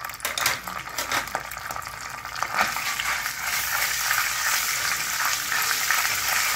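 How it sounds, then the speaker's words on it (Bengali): Ginger paste frying in a pan on low gas, a steady broadband sizzle with faint scraping and ticking, continuous and fairly close, no voices. "আদাটা খুব সামান্যই ফ্রাই করবে"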